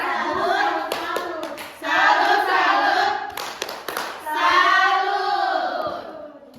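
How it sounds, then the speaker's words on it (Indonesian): A classroom of students clapping together in bursts, with dense, loud applause that pauses briefly and then resumes, and voices are heard over the clapping at moments. "tepuk tangan dulu untuk kita semua silakan"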